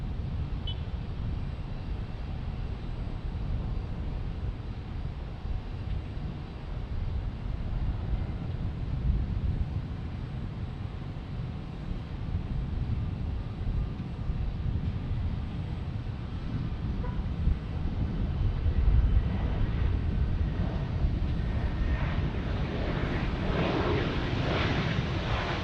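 Spirit Airlines jet in rainbow livery at Tampa International Airport, a low, steady engine rumble heard from a distance, rising slightly toward the end, with wind buffeting the microphone.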